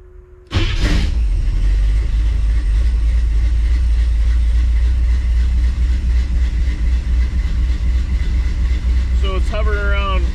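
A 1957 Chevy engine fitted with an EFI conversion fires up and settles into a steady cold idle around 900 to 1,000 rpm, running loud and close, with a person talking briefly near the end.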